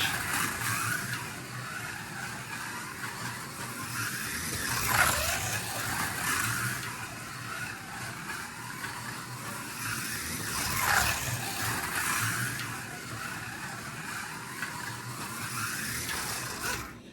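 A small RevoSlot 1/32 Escort slot car whirs around a track, its motor whine rising and falling in repeated laps, passing closer then farther, with no talking.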